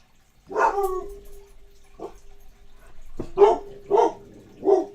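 Dog Bella barks several times in short bursts, close and clear, with a sustained whine-like tone between barks and brief pauses.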